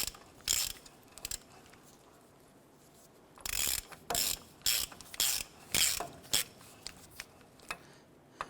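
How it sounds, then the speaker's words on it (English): A 27mm socket ratchet tightens the lower ball joint nut on a 1993-1997 Ford Ranger, giving short runs of sharp clicking pawl strokes in an uneven rhythm, close and clear against a quiet garage background. "I'm going to go ahead and use a 27mm socket on this, and we're going to tighten this down as we rotate the brake rotor here."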